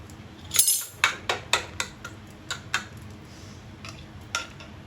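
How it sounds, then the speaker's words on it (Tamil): A metal fork clinks against a plate while picking apart cooked chicken pieces: about a dozen sharp, close ticks and taps in an irregular run, with no voices. "ஒரு ஃபோர்க் வச்சுட்டு நல்லா அது சிக்கனில் இருக்கிற பீஸை எல்லாம் குட்டி குட்டியாக எல்லாம் எடுத்து வச்சுக்கோங்க"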